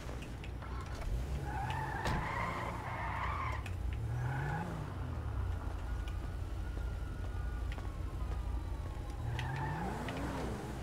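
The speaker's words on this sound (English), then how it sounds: "I hear sirens." Rising and falling police siren wails in a video game sweep in and out over a steady engine drone and tire screeches, with a synthetic, game-like quality.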